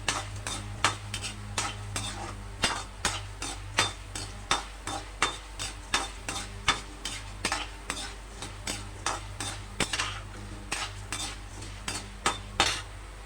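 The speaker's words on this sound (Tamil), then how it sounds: "மீடியம் ஃப்ளேமில் வச்சு அதை ஒரு வறுத்துக்கலாம்." Pirandai roasts in a pan over a medium flame, stirred with a metal spoon that scrapes and taps the pan in a steady, repeated rhythm over a low sizzle.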